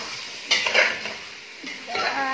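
Chicken stir-fried over high heat in a pan, with a soft background hiss broken by a few scraping, clattering stirs of a spatula, fairly close and moderately loud.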